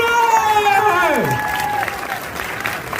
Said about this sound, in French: Applaudissements pour Pascal Chemin, s'il vous plaît.